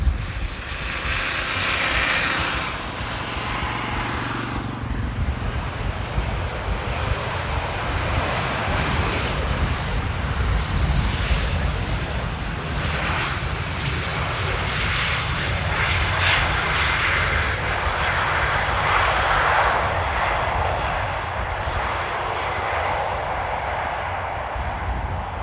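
An airliner arriving at Amsterdam Airport in gusty crosswind, a loud sustained jet engine roar that rises and swells over about twenty-five seconds, with wind noise and no talking.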